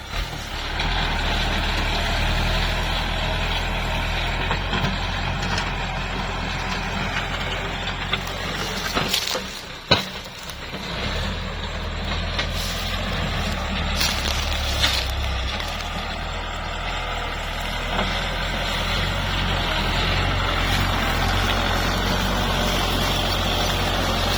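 A Kubota ZT155 tractor hauling 13.6 tons of sugarcane out of a field, its diesel engine droning loud and steady with a strained revving surge and a brief dip partway through.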